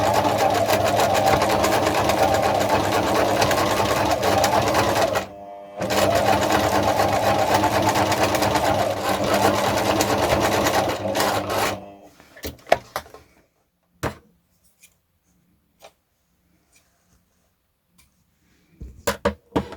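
A sewing machine runs in long continuous bursts while stitching across the corners of a small fabric bag, loud and close, with a brief pause mid-run, then stops and leaves scattered soft handling clicks and knocks.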